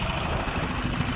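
A fishing boat motor runs steadily on a mahi-mahi trip, a dense, continuous, loud rumble and wash with no breaks, and no voices.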